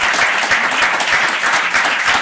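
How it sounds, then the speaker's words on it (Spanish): A crowd at a cultural rights event applauds steadily throughout, a dense wash of clapping with no voices standing out. "quiero pedir un fuerte aplauso para todo el equipo del CESEBA"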